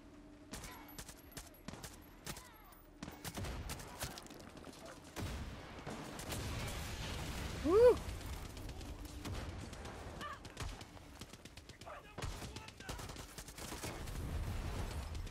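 Explosions and gunfire from the video game Far Cry 6 sound as scattered sharp cracks and bursts of shots, some rapid and clustered, with a louder blast near the middle.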